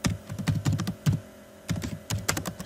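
Keys clatter on a computer keyboard as text is typed into a form while building a C# and SQL Server school registration program, in close, quick bursts separated by short pauses.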